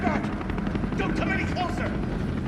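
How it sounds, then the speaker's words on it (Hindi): Helicopter rotor drone from the Resident Evil 3 video game, a steady loud chop overhead across the whole moment, mixed with game sounds and ambience. "तो जो गाइस ये ऊपर हेलीकॉप्टर उड़ रहे हैं"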